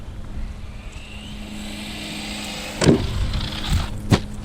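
A GPTOYS S921 budget dual-motor RC truck whines steadily while driving on snow, then lands a few jumps with sharp thumps and clatters near the end.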